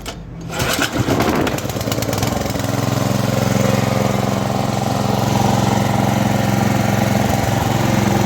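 GAB 1-0/230 generator refitted with a Chinese engine starts and runs close by, a loud steady small-engine drone with a mechanical knock and hum that settles into a constant run.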